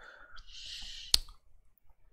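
A single sharp computer mouse click, close and crisp, rising out of a quiet room with faint breathy noise just before it, during setup of Windows Server 2022 in Hyper-V.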